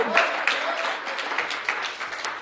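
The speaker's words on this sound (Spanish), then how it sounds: "denle el aplauso al Señor" A church congregation claps together in a sustained, fairly steady round of applause, with scattered sharper hand claps standing out over a faint background voice.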